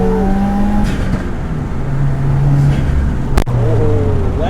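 A 2018 Subaru WRX Premium accelerating hard, its engine note climbing steadily through the gears with rising whine and road roar from inside the cabin, a brief shift break midway, faint voices under it.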